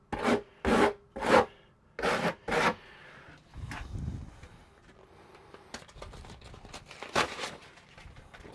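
A 1/8 by 1/8 inch square-notch trowel spreads thinset mortar on a WEDI walk-in shower panel near the valve, making five quick, close, raspy scraping strokes. Softer, irregular scrapes and taps follow.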